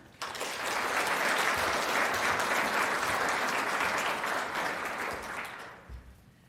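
An audience at a scholarship luncheon applauds a speaker onto the stage. The clapping is full and steady for about six seconds, then tapers off.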